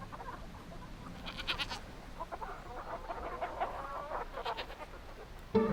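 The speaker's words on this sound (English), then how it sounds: "Gertie the goat and the hens, they were all pecking and scratching and trampling in the garden." Goat and hens trampling about a farm garden, with scattered clucks and short bleating calls, soft and steady against a quiet outdoor background.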